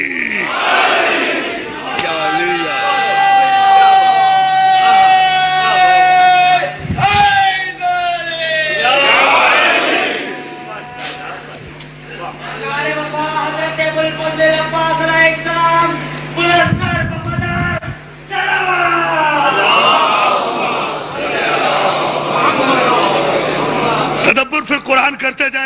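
A large crowd at a religious gathering roars back loud, drawn-out chanted responses to the Nara-e-Haidari slogan, several waves of massed voices with strong harmonic calls, close and sustained across the whole stretch.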